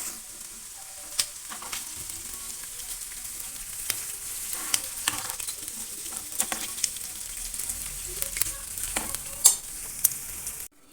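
Prawns deep-frying in oil for a Kerala milk prawn roast, a constant bubbling crackle with sharp spatters and occasional scraping of a ladle, close and even throughout, no speech.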